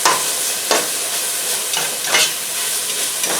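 Partly frozen onions frying in a pan for Japanese chicken curry, a steady bright sizzle close by with several louder crackling swells as they are stirred.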